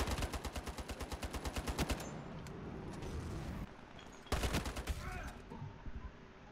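SCAR-H rifle firing in the video game Ironsight, a rapid burst of loud close shots for about two seconds, then a noisy lull and a second short burst of gunfire.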